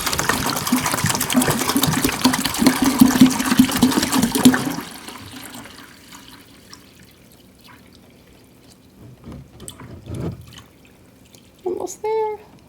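Water pours steadily into the reservoir of an Oraimo countertop ice maker as it is filled to the max line, a continuous close trickle that stops partway, followed by quieter handling clicks and brief speech.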